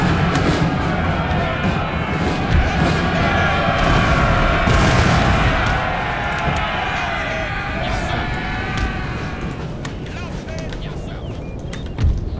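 Artillery fire in Napoleon Total War, dull booms and scattered musket-like cracks over a constant battlefield roar, with crowd noise and voices talking throughout.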